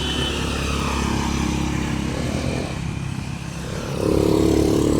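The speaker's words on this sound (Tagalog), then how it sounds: "Walang tigil ang daan ng sasakyan dito." Vehicles passing constantly along a road outdoors, a steady wash of engine and tire noise with a motorbike-like drone that dips briefly, then swells louder as another passes close by.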